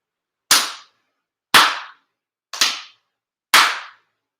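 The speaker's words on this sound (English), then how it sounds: "4 sincere claps" Four sharp, sincere hand claps ring out at an end-of-year ceremony, evenly spaced about a second apart, each loud and crisp with a short decay into silence.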